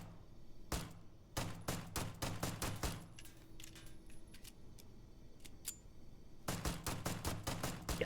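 Astra 19 .45 caliber sidearm mod in Starfield firing two strings of rapid, loud, close shots with a quieter gap between them filled by faint clicks and ticks.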